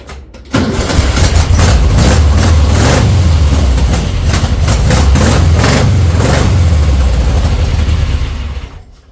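VW Baja Bug engine running rough on three cylinders, loud and close, catching suddenly and then holding a lumpy, uneven idle before cutting off near the end.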